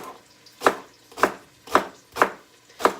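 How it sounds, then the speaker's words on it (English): Knife chopping celery on a cutting board while making cabbage soup, five crisp evenly spaced chops about half a second apart, close and clear with quiet gaps between. "I'm going to get my celery cut up."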